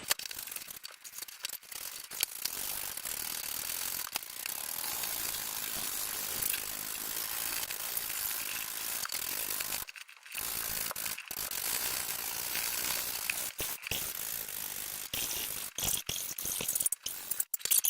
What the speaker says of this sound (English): I can see some air getting into this ball already.